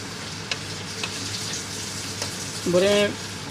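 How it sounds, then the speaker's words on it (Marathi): Roasted masala going into a Goan king fish curry: a soft, even sizzle in the pan with a few faint stirring taps and a brief louder burst near the end. "आतां हो मसालो बरो भाजला. हांव आतां तें नुस्त्याक घालता."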